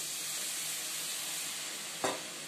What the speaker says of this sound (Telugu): ఇప్పుడు మనం కొంచెం కొంచెం ముందుగా వేడి చేసుకున్న ఆయిల్ ఉంది కదండి, దాన్ని మనం కొంచెం కొంచెంగా యాడ్ చేసుకోవాలి